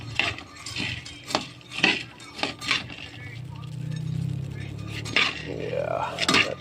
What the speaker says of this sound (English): I found the wok is really good because it's easy to stir with the round edges